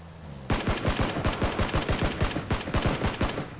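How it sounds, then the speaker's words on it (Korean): Rapid automatic gunfire in the battle-royale shooter PUBG (Battlegrounds), a loud sustained burst of closely spaced shots starting abruptly after a brief quiet and continuing steadily, with no talking over it. "와, 총 드럽게 못 쏜다."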